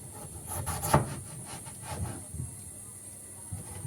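Knife slicing through peeled potatoes for French fries, a few soft scraping and rubbing cuts close by, with a sharper stroke about a second in.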